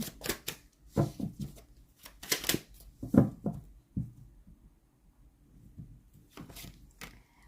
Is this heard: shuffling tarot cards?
yes